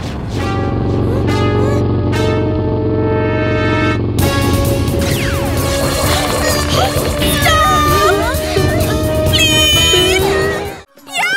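Cartoon cat meows, several rising and falling cries heard over loud background music and effects.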